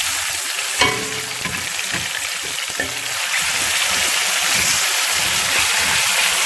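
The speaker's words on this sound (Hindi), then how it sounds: "अब हम इसमें चिकन डाल देंगे।" Chicken pieces hit hot oil in a karahi with ginger-garlic paste, bursting into a loud, steady sizzle and frying crackle, with scraping stir strokes and clinks near the start, continuing without talk.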